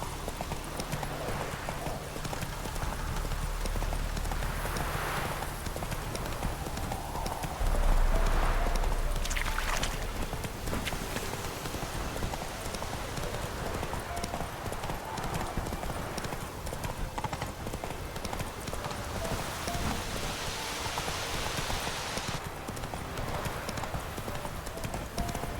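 Hooves of Roach, the horse in The Witcher 3: Wild Hunt, pounding in a continuous gallop for the whole stretch, loud and steady over a dense game soundscape with occasional faint voices.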